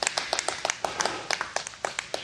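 A small audience at a fair applauds a juggler, a scattered run of distinct, fairly close hand claps with an uneven rhythm, moderately loud and without talk.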